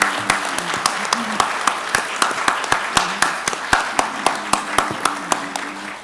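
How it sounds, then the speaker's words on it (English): Applause from an event audience, with individual claps distinct and fairly sparse in a steady rhythm, close and moderately loud throughout. "So let's have a round of applause."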